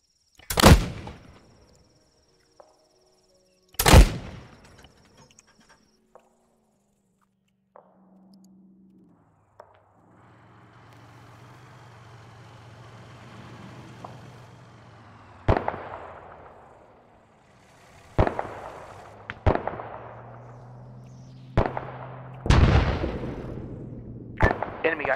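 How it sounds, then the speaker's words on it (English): Mortar and artillery blasts in the military video game Arma 3, several sharp booming impacts spaced across the scene, some loud and near, others more distant with a low rumbling hum between them. "They just called in saying that wasn't their mortar."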